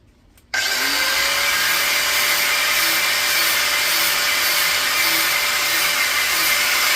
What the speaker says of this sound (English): we'll give it a wee scratch with the grinder